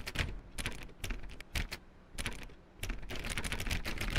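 Rapid clicking in uneven bursts with short pauses, close and fairly loud, sounding like a mouse or key being pressed over and over to click a door in a game.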